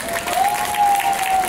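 An audience applauds teachers at a school's tenth-anniversary celebration: steady, dense clapping throughout, with a thin sustained tone running through the middle.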